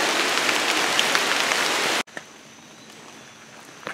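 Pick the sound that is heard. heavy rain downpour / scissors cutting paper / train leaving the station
heavy rain downpour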